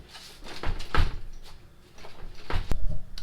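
A frozen door in snowy, freezing weather is pushed and tugged, producing a string of dull knocks, rattles and one sharp thump, fairly close and with no speech.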